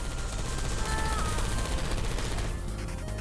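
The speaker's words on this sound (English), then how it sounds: "I heard gunfire!" Rapid bursts of gunfire rattle through a Portal 2 game scene, dense and continuous over a steady low rumble, with brief whistling tones in the background.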